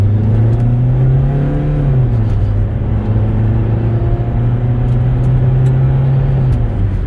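A 2007 Toyota Corolla S with 300,000 miles and a raspy exhaust accelerates from inside the cabin, its loud, steady engine drone dipping in pitch as the transmission shifts twice.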